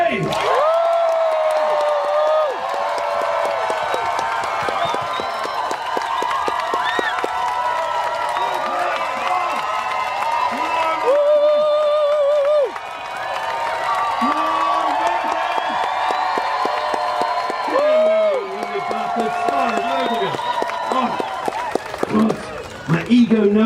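At a steampunk festival, a crowd whoops, cheers and applauds for the volunteers, with loud voices and shouting over the clapping and a brief dip partway through.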